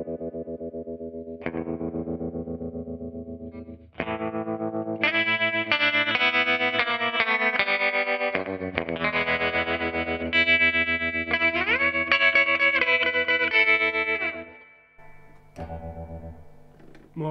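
Electric guitar plays a run of ringing, distorted notes through heavy effects, each one trailed by a quick echo, then settles into quieter held tones near the end.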